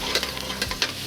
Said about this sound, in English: Just going to give them a nice stir around.